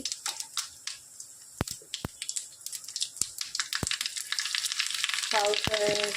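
Cumin and mustard seeds spluttering in hot oil for a village-style brinjal curry, a dense crackle of rapid pops with sharp louder cracks, building to a steady sizzle with a metallic clink near the end.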